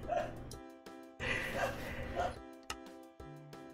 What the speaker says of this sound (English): My dogs are really just doing the most right now.